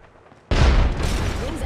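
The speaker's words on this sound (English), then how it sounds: "Throwing frag." A frag grenade goes off in a video game as a sudden loud, sustained explosive roar after half a second of quiet, close and dense.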